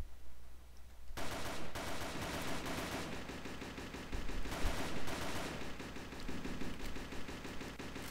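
Rapid automatic gunfire from the online shooter Operation 7 rattles loudly and continuously in dense bursts, with no talk over it.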